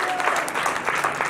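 Congregation applauding at a church gathering, a dense steady wash of many hands clapping through the whole short stretch, fairly loud and close, with a murmur of voices mixed in.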